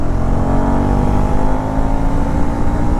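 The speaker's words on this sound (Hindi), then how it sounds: "फोर्थ गियर से पुल लेते हैं एंड देन 80 पे जाके ब्रेकिंग करेंगे" A 2024 Husqvarna Svartpilen 401 motorcycle pulls hard in fourth gear, its engine a loud, steady drone climbing slightly in pitch over three seconds with no voices.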